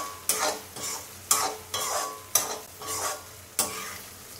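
Vegetables for rava kichadi stirred in a pan over a high flame: about six rhythmic scraping strokes, each sharp at the start and fading, over a faint steady sizzle, close and moderately loud.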